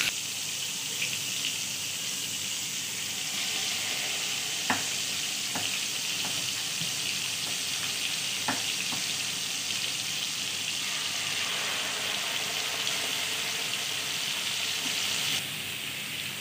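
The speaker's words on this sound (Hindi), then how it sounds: "अब हम इसमें 2 टेबल स्पून बटर मेल्ट करेंगे।" Butter melts into cooking oil in a pan, giving a soft continuous sizzle with a few sharp clicks and taps of a utensil, close and steady throughout.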